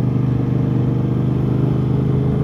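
Aprilia RS660 motorcycle fitted with an aftermarket exhaust, its engine holding a loud, steady, throaty drone with a fast pulsing rhythm and no talking over it.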